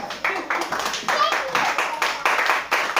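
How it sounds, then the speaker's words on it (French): A church congregation breaks into applause during a worship service, giving dense, continuous clapping from many hands in loud, rolling waves close by. "on acclame Jésus-Christ"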